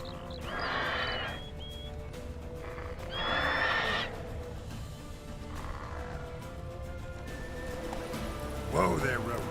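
Roach, a horse in a video game, whinnies loudly in two bursts and then again more softly, with clip-clopping gallop hoofbeats running underneath and a brief crash near the end.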